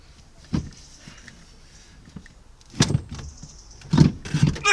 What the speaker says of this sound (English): I'm having a bit of a time getting the seat out